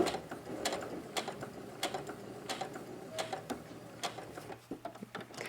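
A sewing machine stitches a fabric zipper pouch in short bursts, with quick mechanical ticking and clicking separated by brief pauses, close and fairly quiet with no voices.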